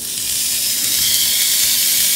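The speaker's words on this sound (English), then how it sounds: "So once it is hot, I'll put my tilapia fillet into it" Tilapia fillet marinated in olive oil sizzles steadily on a hot grill, a close, continuous bright hiss that holds even and loud with no voices over it.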